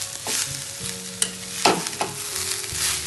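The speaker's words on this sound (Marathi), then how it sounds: "खोबऱ्याला थोडंसं नाही का ऑइल सुटेल तोपर्यंत चांगलं भाजून घ्यायचं" Grated fresh coconut roasting in a pan for coconut laddoos, with a spatula scraping and stirring through steady sizzling and a few sharp scrapes near the mic, no voices.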